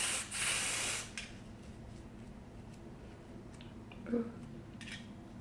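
Aerosol hair spray hisses onto a lace wig in one steady burst of about a second, close and fairly loud, followed by quieter faint handling noises.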